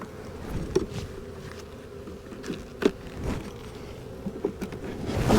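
Honey bees buzz in a full hive box, a dense steady hum broken by a few louder passes and light knocks near the end, with no talking.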